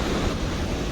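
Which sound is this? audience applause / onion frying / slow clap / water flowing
water flowing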